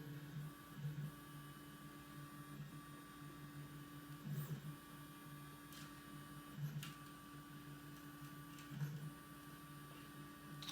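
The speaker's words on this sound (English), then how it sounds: "And we're printing." EasyThreed X1 3D printer running a print job: steady motor whine and hum with periodic clicks and stepper chirps roughly every two seconds, quiet and close, with no voices.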